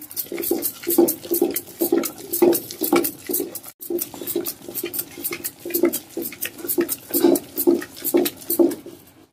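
Amla (gooseberry) chutney being ground by hand in a stone mortar, a steady rhythm of gritty scraping and knocking strokes, close and fairly loud with a brief pause midway.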